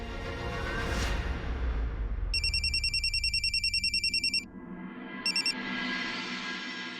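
Ringback tone on a phone call sounds as repeated bursts of electronic ringing, loud and close over a low hum of room noise, with a short final burst after a pause.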